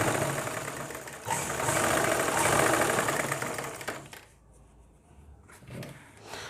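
An electric sewing machine stitches a lycra pajama seam, running fast and loud in a steady whirring burst for about four seconds, then slowing to quieter, intermittent stitching.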